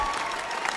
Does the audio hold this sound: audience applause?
yes